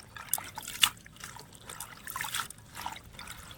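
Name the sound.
washing spinach leaves in water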